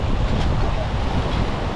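Waves crash and surge against seaside rocks on the southern Korean coast, a loud continuous wash of surf mixed with wind buffeting the microphone, with no voices.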